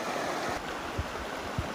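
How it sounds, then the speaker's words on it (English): Creek water diverted from the Dungeness River rushing at a salmon hatchery outlet, a broad, steady close-up flow with occasional low thumps and no voices. "This creek is actually diverted from the river, goes into the ponds, and serves as the outlet and inlet"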